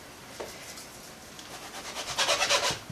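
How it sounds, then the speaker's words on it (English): A knife cuts through a one-pound pack of bacon, with faint scraping at first and then a run of quick rasping strokes near the end, close and fairly quiet. "take a pound of bacon I have here, cut it in half"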